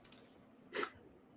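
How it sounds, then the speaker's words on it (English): A single quick sneeze bursts out close to the microphone, brief and breathy, against an otherwise quiet room. "Just, sneezing."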